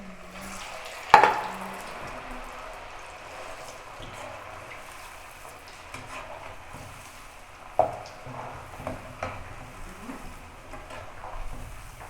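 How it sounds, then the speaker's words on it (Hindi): Potato chips dropped into hot oil in a kadai fry with a faint, steady sizzle, broken by a couple of clinks from a utensil against the pan. "अब मैं आलू को डालती हूँ इसके अंदर, कढ़ाई के अंदर।"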